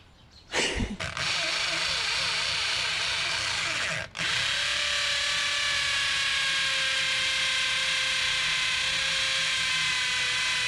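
An old electric drill whines up to speed, stutters briefly, then runs at a loud, steady high-pitched drone that continues to the end.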